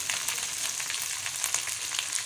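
Rice frying with black pepper in a pan for egg fried rice, a soft, even sizzle with light crackles over a short stretch, no voices.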